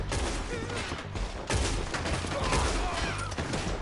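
Heavy gunfire from a Red Dead Redemption 2 town shootout, a dense continuous fusillade of overlapping rifle and pistol shots with sharp louder bursts near 1.5 and 3.3 seconds, loud and close.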